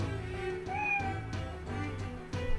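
Cat meowing in the video game Azure Dreams, a few short meows over steady looping game music, moderately loud and close.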